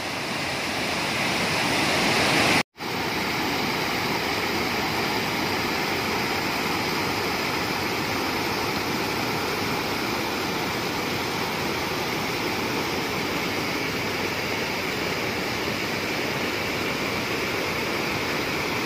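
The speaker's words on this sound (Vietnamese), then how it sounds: "Hiện nay thì trời vẫn đang mưa." Heavy storm rain and a flooded mountain stream by the Pù Tong waterfall in Mường Lát make a loud, steady rushing roar, broken only by one brief dropout early on, with no voices.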